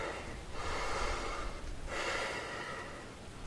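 Heavy, audible breaths during recovery after an exercise set, two long airy exhales about a second and a half apart, close to the microphone and loud, with no talking.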